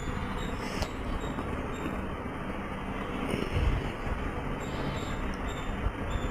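A train at a railway station in the Indian Bike video game gives a steady mechanical rumble with faint high squeals, fairly loud and continuous, with no talk over it.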